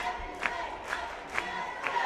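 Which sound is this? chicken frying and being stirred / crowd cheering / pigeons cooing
crowd cheering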